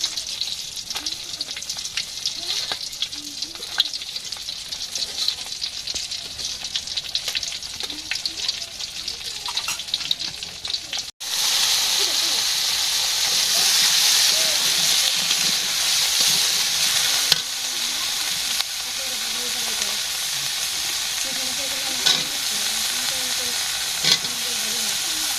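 A large fish head fries in a pan of oil at a village cooking fire, giving a steady, dense sizzle that jumps louder and brighter about halfway through and stays strong, crackling continuously to the end.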